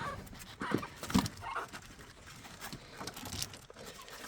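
Faint puppy whimpers and small yips amid soft shuffling and pattering, close and intermittent.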